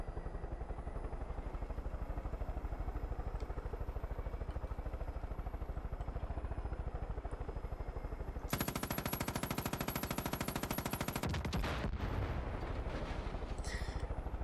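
Steady rapid gunfire from a video game keeps up a rhythmic machine-gun rattle throughout, then a louder, brighter burst of shooting breaks in near the end before cutting off abruptly.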